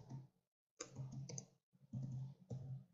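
Quick bursts of key presses on a computer keyboard while writing C++ code, clustered into short runs with brief pauses between them, close and fairly clear with no one talking.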